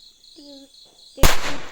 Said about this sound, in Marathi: आम्ही त्या दिव्याने हे फटाके असे फोडतो हे बघा